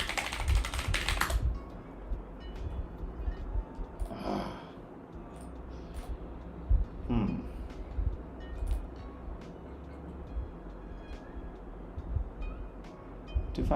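Typing on a computer keyboard, with bursts of close, clicky keystrokes in irregular runs and short pauses between them, over a low background hum.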